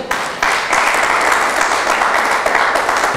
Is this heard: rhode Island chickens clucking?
no